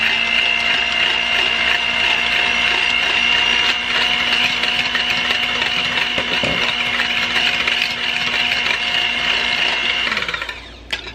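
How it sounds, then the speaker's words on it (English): Egg whites being whisked with cream of tartar for a keto lemon meringue pie, a steady, loud whirring drone that holds evenly and then cuts off abruptly near the end. "we are actually going to whisk our egg whites together to make them light and fluffy"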